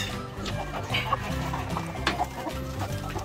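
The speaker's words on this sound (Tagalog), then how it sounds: "Ito naman yung mga abuhin natin na manok mga ka-farmers o yung upgraded native chicken." Upgraded native chickens, grey heritage birds on a farm, cluck softly and intermittently at close range over a low background hum.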